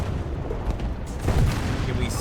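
A tank cannon fires in War Thunder from a French E.B.R. 1954 armored car, one heavy low boom swelling midway through a short stretch of battle noise, with a voice talking.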